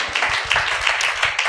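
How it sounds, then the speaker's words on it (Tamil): Church congregation clapping hands together in thanks at a Tamil sermon, a brisk, dense burst of many hands with a rough shared rhythm, loud and close, lasting under two seconds with no talk. "கைத்தட்டி ஆண்டவருக்கு நன்றி சொல்லுங்க."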